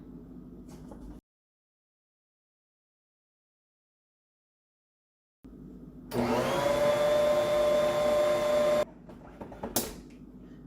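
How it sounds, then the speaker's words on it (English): An electric mixer whirs steadily for a few seconds, beating apple pie bread batter in a bowl, starting abruptly after a silent pause and then cutting off. "I'm gonna scrape the sides again and mix it one more time just to make sure it's still looking good"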